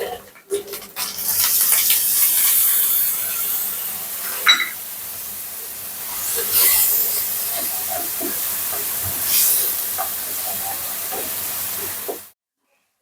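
Steady hissing sizzle of spices and vegetables sautéing in a pan, loud and continuous with a few sharper bursts, cutting off abruptly near the end.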